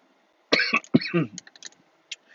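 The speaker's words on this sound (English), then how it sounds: "I don't know why I'm coughing so much." Two sharp, close coughs in quick succession, followed by a few softer throat sounds and small breaths trailing off.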